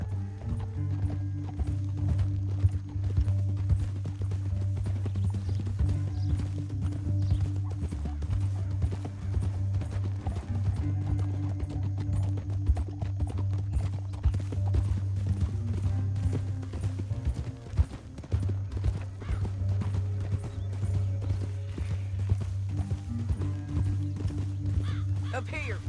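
Horses galloping in the video game Red Dead Redemption 2, a steady rapid clip-clop of hooves over a low rumbling bed, with a horse whinnying and game dialogue spoken over it.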